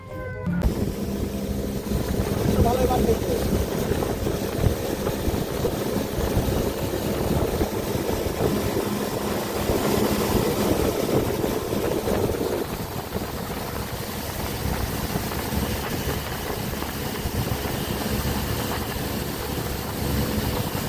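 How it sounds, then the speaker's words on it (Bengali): A speedboat engine drones loudly and steadily on the Padma river near the Gopalpur launch ghat in Faridpur, with a constant rush of wind and water throughout. "আমি এখান থেকে স্পিড বোটে ফিরে যাচ্ছি দোহার মইনুট"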